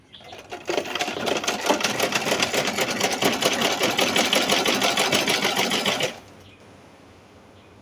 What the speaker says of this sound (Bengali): এরকমভাবে সেলাই দেওয়া হবে।